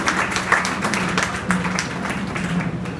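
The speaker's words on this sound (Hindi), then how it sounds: "जोरदार तालियों से आप इनका स्वागत करें" An audience at a Lions Club diabetes seminar in Azamgarh applauds the chief guest, a sustained dense patter of clapping filling the hall at moderate loudness.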